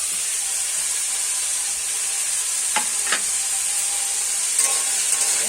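Carrot and capsicum frying in ghee for chira pulao give a steady, close sizzle, with a couple of brief stirring scrapes partway through and a few more near the end.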